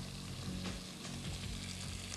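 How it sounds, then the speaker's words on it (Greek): Hot oil in a pan, being tested before frying tortillas, gives off a steady close crackle and sizzle with no voices. "να δω αν έγινε το λάδι για να τηγανίσω τις τορτίγες"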